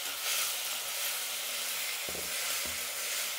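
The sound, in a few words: tomatoes frying in a pan with onions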